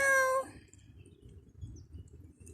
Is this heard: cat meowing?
yes